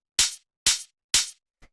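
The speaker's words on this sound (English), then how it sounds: "So the first thing that's happening here is the main hi-hat," Main hi-hat from a minimal house beat, three crisp bright hits evenly spaced about half a second apart, each with a short airy tail, then a faint small tick at the end, alone with no talk.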